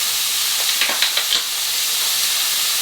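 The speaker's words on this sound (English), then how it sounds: "Next, we need to fry off our bacon lardons." Bacon lardons frying in a non-stick sauté pan give a steady loud sizzling hiss, with a few sharp pops and spits in quick succession near the middle.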